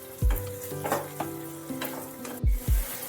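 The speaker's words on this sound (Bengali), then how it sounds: "ভালো করে নাড়াচাড়া করে নিতে হবে যাতে সব কিছু কুমড়োর সাথে ভালোভাবে ম্যাশড হয়ে যায়" Pumpkin chutney being stirred and mashed in a pan: sharp spatula knocks and scrapes ring out against the metal over a low sizzle, with a few heavier thumps near the end.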